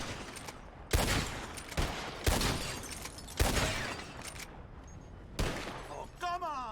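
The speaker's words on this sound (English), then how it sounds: "The one who shoots the most bottles wins." Gunshots shatter bottles in the Red Dead Redemption 2 video game: four or five sharp, loud cracks spaced about a second apart, each followed by a burst of breaking glass, with a brief chime near the end.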